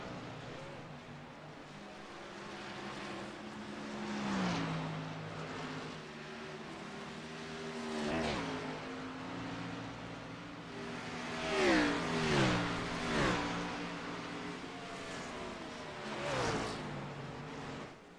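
Race car engines in a racing video game at Watkins Glen, a steady buzzing drone with repeated rising and falling revs and gear shifts, several cars layered together, loud and continuous throughout.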